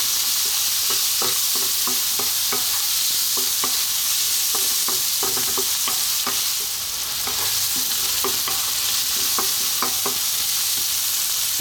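Creamy tuna pasta sauce with black pepper and salt sizzles steadily in a pan over high heat, broken by repeated scraping stirs as it is kept moving, close and continuous with no talking.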